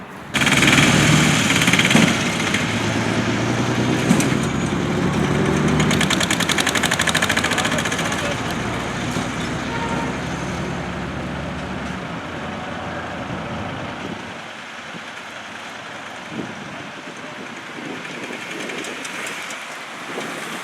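Heavy traffic at a congested road junction: trucks and engines idle and rumble loudly nearby, then the roar fades to a quieter, distant hum of passing vehicles.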